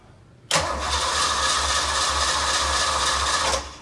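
A car engine cranks and catches with a sudden loud start, then settles into a steady close rumbling idle that fades slightly at the end.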